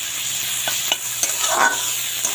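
Medicinal dandakalas greens are stirred with green chilli and brinjal frying in a pan. A continuous close sizzle runs under a few sharp spatula scrapes and clicks against the metal, with no voices.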